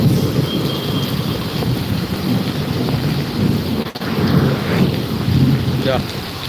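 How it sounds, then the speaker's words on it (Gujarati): A thunderstorm in Amreli: dense, heavy rain roars loudly and continuously close by, with low rumbles of thunder rolling beneath it. "વીજળીના તો ભાઈ ધડાકા થાય"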